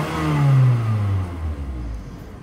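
A car engine, partly cleaned with injector cleaner during a tune-up, revs up and then winds back down toward idle, loud and close, with a steady mechanical drone and no talk.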